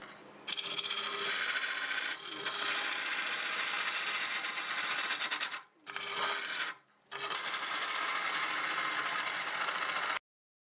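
A wood lathe spins a cherry burl at close to 900 RPM while a freshly sharpened 5/8 bowl gouge cuts it, giving a loud, steady, rough scraping roar broken by two short pauses near the end.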